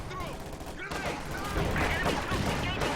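Bursts of MG34 machine gun fire ring out in a dense Company of Heroes 2 battle, blended into a steady, loud wash of gunfire and combat noise that runs through the whole stretch.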